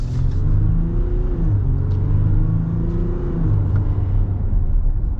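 A turbocharged diesel Ram truck engine roars under full throttle, a deep continuous rumble with rising and falling revs as it accelerates.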